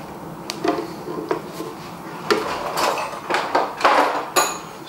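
Thick roast cauliflower and parsnip soup scraped out into a pan, with a run of soft scrapes and clinks of a utensil against cookware, moderately close, growing busier toward the end.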